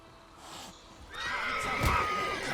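A horse in The Witcher 3 video game gives a loud, close whinny that rises and wavers for about a second and a half, with faint game ambience beneath and no speech.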